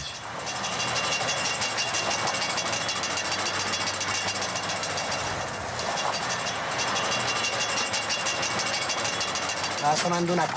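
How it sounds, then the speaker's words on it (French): An old car with a failing drive shaft rattles and groans steadily while driving, a continuous loud mechanical clatter with road rumble throughout, and voices talk over it. "Ce bruit vient du cardan."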